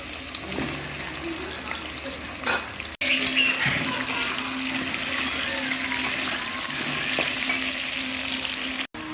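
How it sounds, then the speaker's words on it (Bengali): Potatoes fry in a pan, a steady close sizzle with occasional stirring and scraping sounds running throughout, briefly cut by two short gaps. "তো আলুটা মোটামুটি ভাজা হয়ে এসছে।"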